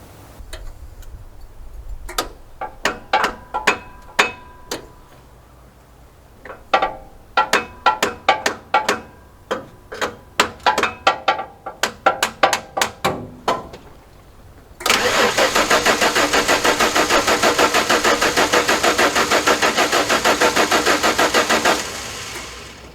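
A starter on a hard-to-start engine cranks in a run of sharp irregular clicks and bursts for about fifteen seconds, then the engine catches and runs loud and steady before cutting off near the end.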